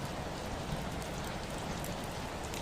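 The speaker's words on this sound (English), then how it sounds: "Somewhere the rain is just a sound on glass" Rain falling on glass, a dense, even patter of many drops with no pauses, steady and fairly close.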